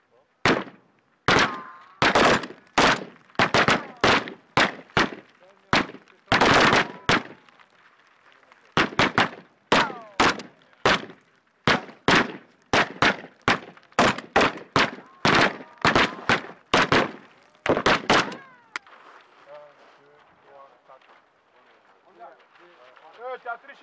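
Gunfire at a weapons training range in Guinea rings out as a long series of loud, sharp shots, some single and some in fast clusters, with short gaps between volleys before fading to quieter noise.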